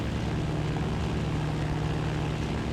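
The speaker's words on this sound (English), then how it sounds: "we've got our fighter here" A fighter plane's engine drones in Battlefield 1942 near a moving aircraft carrier, a loud, continuous propeller roar that holds steady throughout with no voices.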